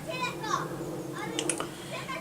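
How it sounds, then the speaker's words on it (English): Children's voices and playful shouts drift in from outside, faint and distant, with a couple of brief higher-pitched squeals. "Excuse the noisy kids outside."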